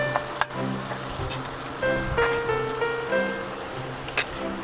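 Chicken gorgara masala sizzles steadily in a pan while being stirred, a continuous frying hiss with occasional scraping and clinks of the spoon, with no talk over it.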